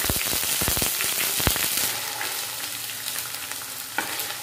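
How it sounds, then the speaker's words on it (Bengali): Onion paste added to hot oil with whole garam masala in a pan, for Kolkata-style chicken rezala: a burst of loud crackling sizzle and stirring scrapes, then a settling, softer steady fry. "এরপর এর মধ্যে আমি পেঁয়াজ বাটাটা অ্যাড করে দিচ্ছি।"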